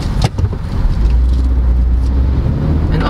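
A 2023 Honda BR-V V pulls off from a standstill, its engine rising into a low, steady drone with some wind noise, heard close from inside the car.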